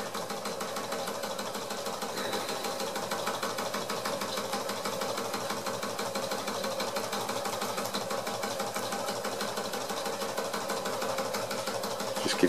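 A Wilesco D141 toy steam engine runs steadily at close range. Its rapid, even mechanical chatter and hiss continue without a break, with no voices.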